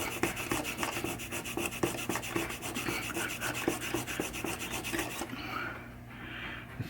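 A Scotch-Brite pad scrubs the contacts of a 1976 Williams Grand Prix pinball machine's stepper unit, a rapid, rhythmic rasping heard up close that stops just past the five-second mark, with no talking.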